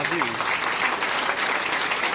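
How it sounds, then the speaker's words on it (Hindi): Steady, dense audience applause at a comedy show, loud and continuous for a couple of seconds, with a brief voice at the very start. "अगर बात अच्छी लगे तो एक बार तालियां चाहूंगा आशीर्वाद"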